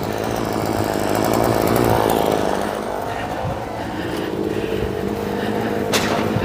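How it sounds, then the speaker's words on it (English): Motorized saws cut wood nearby, a loud, continuous buzzing roar whose pitch shifts as the blades load and ease, with a brief sharp crack near the end. "I think we're going to have to get our saws on."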